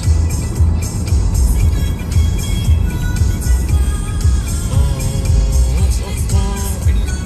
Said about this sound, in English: I'm in the car.